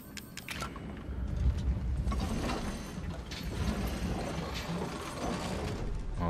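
Crank mechanism turning in Resident Evil VR, a run of ratcheting mechanical clicks and gear rattles, moderately loud and continuous with no talk.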